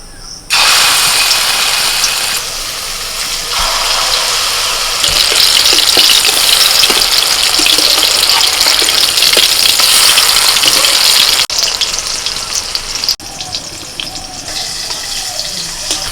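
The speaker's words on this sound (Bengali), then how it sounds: "তেল গরম হয়ে গেছে এবার ছোট ছোট করে বড়া ছেড়ে দিচ্ছি" Small banana flower and egg fritters dropped into hot oil, frying with a loud, steady broadband sizzle that runs throughout and dips briefly a couple of times near the end; no talking.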